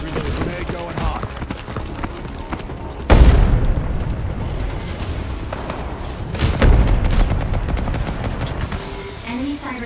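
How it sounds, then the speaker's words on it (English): Dense battle noise in the online shooter Ghost in the Shell: Stand Alone Complex First Assault, with steady loud gunfire throughout and two heavy booming grenade blasts, the second a few seconds after the first, while voices speak over the fighting. "Grenade going hot."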